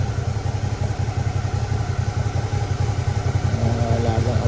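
A Suzuki V-Strom DL650 motorcycle, unused for months, idles while warming up with a steady, close, low throbbing rumble, and a person talks over the engine.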